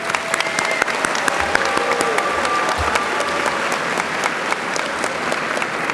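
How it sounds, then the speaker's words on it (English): An audience applauds faculty at a 2019 high school graduation ceremony for a health and ESSM school, with steady, dense clapping from a large crowd filling the hall for several seconds. "Let's give a round of applause to the faculty here today."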